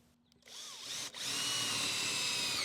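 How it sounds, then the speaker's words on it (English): A power drill spins up and pre-drills into wooden boards with a loud, steady high whine that holds after a brief dip, close by. "I like to pre-drill because I don't want the frame to crack during assembly"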